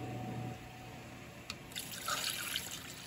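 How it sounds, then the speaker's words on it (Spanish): Chicken broth pours into a cooking pot while chipotle chicken tinga is being made, giving a soft, steady liquid trickle and splash that builds partway through, fairly quiet with no talking. "voy a agregar el caldo de pollo"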